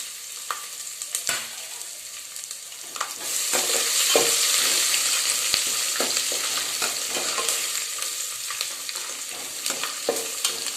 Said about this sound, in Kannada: ಕುಟ್ಟಿಟ್ಕೊಂಡಿರೋ ಬೆಳ್ಳುಳ್ಳಿನ ಅದನ್ನು ಹಾಕ್ತಾ ಇದ್ದೀನಿ